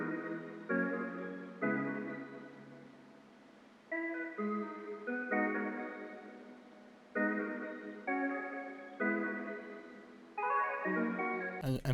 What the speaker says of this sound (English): Next I use this like mellotron pluck that sounds like this.